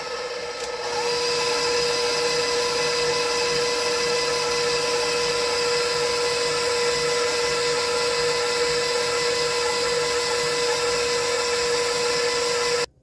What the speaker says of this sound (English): Don't have enough room to put my mixer up here properly. Okay. We're going to mix that.